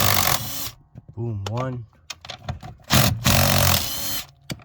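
Close bursts of a power tool whirring as bolts are removed from a BMW E36 pedal assembly during a manual swap, several short runs separated by pauses, with someone talking and counting between them.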